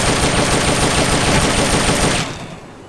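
Rapid automatic gunfire in Metal Gear Solid: Peace Walker HD during shooting practice, a loud continuous burst of close shots that stops abruptly after about two seconds, leaving a short fading tail.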